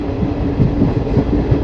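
A Malda-Howrah Intercity Express rolls through fog near Azimganj beside the Ganges, giving a steady close rumble with a repeating clickety-clack of wheels over rail joints and no voices.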